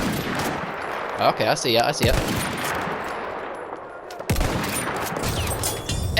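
Sniper rifle gunfire in the Battlefield 1 video game: a few sharp, loud shots with bursts of combat noise, mixed under a man's brief speech and ongoing game sounds.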